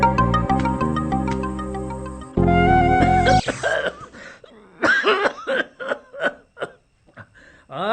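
Loud music plays, then it stops abruptly and several close, harsh coughs follow in an irregular burst in a comedy drama scene.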